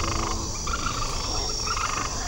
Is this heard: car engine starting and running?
no